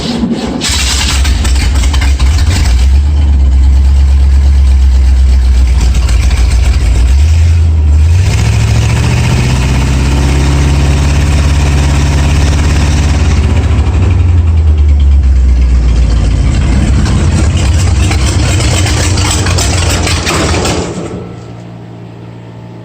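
A 1937 Ford engine cranks, catches and settles into a loud, steady idle with a rumbling exhaust, close by and continuous for about twenty seconds before cutting off.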